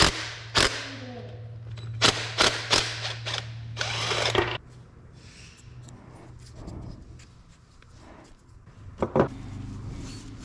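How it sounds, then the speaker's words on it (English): A wrench works a 12 mm nut on a car, giving a series of sharp metallic clicks and taps in bursts over a low steady hum, then quieter scraping with a few late clicks. "I'm gonna go ahead and pull off this 12 mil nut right here"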